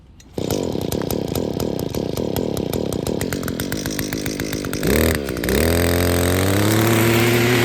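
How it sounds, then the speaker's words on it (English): A weed whacker on a farm starts with a sharp pull, then runs loud and close, its two-stroke engine sputtering before revving up into a steady high whine. "use a weed whacker,"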